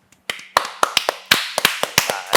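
Scattered hand claps, about a dozen separate sharp slaps arriving unevenly and close by, with no talking over them.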